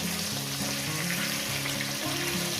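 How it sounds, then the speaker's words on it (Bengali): Pieces of rohu fish frying in hot oil, a steady, loud, close sizzle that holds evenly throughout with no talking. "এখন আমরা বন্ধুরা মাছগুলো ভেজে দিচ্ছি"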